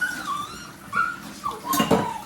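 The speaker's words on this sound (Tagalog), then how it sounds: "iniiyakan ako ng aso." A dog whimpers in a few short, high, whiny bursts, close by, with faint clinks of dishes in the background.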